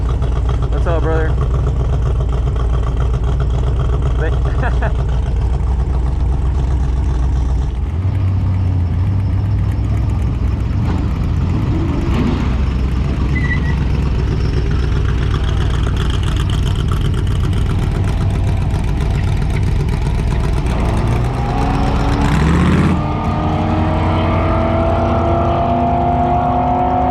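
A Jeep with a V8 engine rumbles at a drag strip, a deep, loud idle that rises into revving bursts near the end, with people talking over the engine noise.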